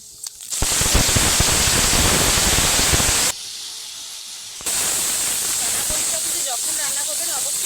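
Whole spices (cinnamon, cloves, cardamom) and onion paste hit hot oil, giving a loud, dense sizzle that briefly quietens and then surges again as more goes into the pan.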